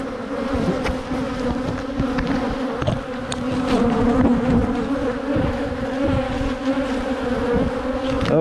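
Honey bees hum in an open hive with brood and fresh larvae, making a loud, dense, continuous buzz with steady droning tones close by and no voices.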